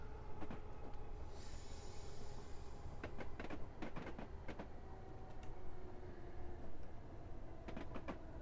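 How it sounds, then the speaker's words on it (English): Class 423 EMU electric train in Train Simulator Classic, with a steady rolling rumble and repeated sharp clicks and short hisses from the air brakes as it slows into a station. "Sounds like we've got air brakes as well."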